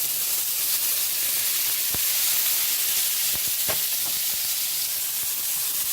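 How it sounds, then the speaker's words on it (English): Tomatoes fry in a very hot pan with a constant loud, airy sizzle throughout, broken by a few faint utensil taps and clicks. "I'm going to be putting these tomatoes in our super hot pan to make sauce."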